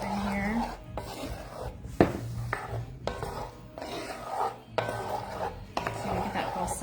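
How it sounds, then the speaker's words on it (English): A spatula and a wooden spoon toss tomatoes with balsamic and honey in a bowl, producing repeated scraping, rubbing strokes with soft knocks, close and steady. "I'm gonna use grab a spatula and a wooden spoon. Get this nice mix up in here."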